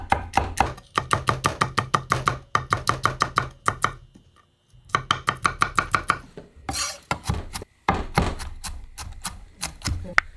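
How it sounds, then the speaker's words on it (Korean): Cheongyang chili peppers being finely chopped with a knife on a cutting board, in rapid, steady bursts of close, crisp taps, with brief pauses between runs. "그래서 총총총총 썰어서 곱게 다지세요"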